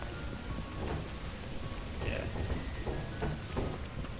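Steady rain falls across a level in the video game Lethal Company, a dense continuous hiss of drops at constant loudness that fills the whole stretch, with faint voices mixed underneath.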